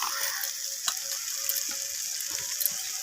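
Garlic and ginger paste sauté in a pan for rohu fish kalia, a quiet steady sizzle with small clicks and scrapes of stirring, close by and without voices.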